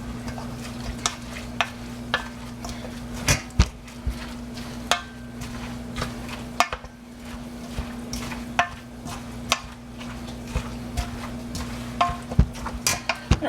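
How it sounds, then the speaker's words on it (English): Steady sizzling of pork frying in a pan for Hiroshima-style okonomiyaki, with sharp clicks and clatters of utensils scraping and tapping throughout; no talking. "Got my pork frying"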